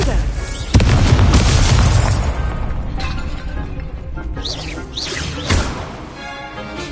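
A Confringo blasting spell explodes in Hogwarts Legacy with a loud, deep boom and crashing debris, followed by fainter magical whooshes and a second smaller burst.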